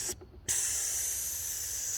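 Refrigerant hisses steadily from a leaking AC line on a Jeep JK, a loud continuous spray that cuts out briefly and then resumes at full force.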